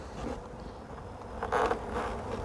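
Honey bees hum in a dense, steady drone during a spring hive inspection with swarm control, the buzzing swelling briefly louder as bees pass close.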